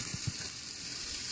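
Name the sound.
onions sizzling in avocado oil in a pan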